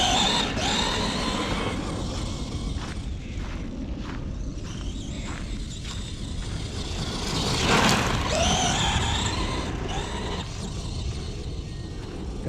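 An Arrma Gorgon RC car runs across grass with a steady, whiny motor drone and broadband rushing noise, surging louder for a moment midway and carrying on continuously with no talk.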